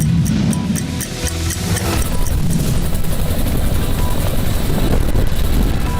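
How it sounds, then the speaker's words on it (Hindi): A Chinook heavy-lift twin-rotor helicopter flies near Kedarnath, its rotors thudding in rapid beats over a loud, continuous roar of engine and wash that stays steady throughout. "कल तक अमेरिका की शान माना जाने वाला यह हैवीवेट चिनूक हेलीकॉप्टर आज भारत के आसमान की शोभा बढ़ा रहा है।"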